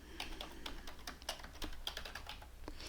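Computer keyboard keys tap in a quick, irregular run of crisp clicks, fairly quiet and close, as a search term is typed into Gmail help.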